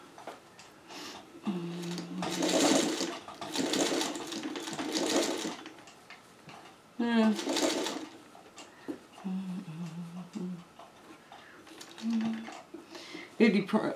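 A sewing machine runs in several short stitching bursts, sewing quilt pleats for inset circles, whirring steadily for a few seconds each, with pauses and a voice talking between runs.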